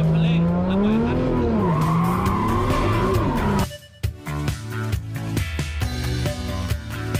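A car spins a donut with loud, wavering tire screeches that swoop up and down for several seconds. The squeal cuts off abruptly and gives way to tonal, music-like sounds.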